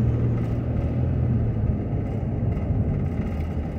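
Steady low road rumble and engine hum from inside a car cruising along Alexandria Pike in Anderson, Indiana, a continuous even drone with no voices.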